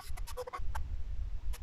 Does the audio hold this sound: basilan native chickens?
yes